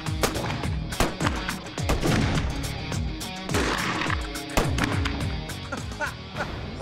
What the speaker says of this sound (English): Our gunslingers take pot shots at their whole hat collection.